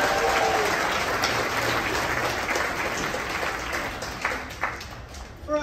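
Sustained audience applause for an event sponsor fills the hall at steady strength, thinning toward the end with a few scattered louder claps.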